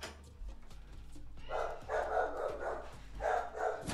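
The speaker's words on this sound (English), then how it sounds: "Dog off the fence again." A dog barks several times in short bursts from a moderate distance, over low background noise.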